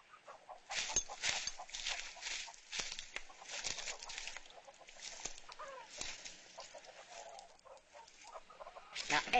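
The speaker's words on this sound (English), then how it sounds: "You hear what I hear? Yeah, chickens." Chickens clucking near a building on a frontier stagecoach road, a busy scatter of short clucks and calls at moderate distance, with quiet talk mixed in.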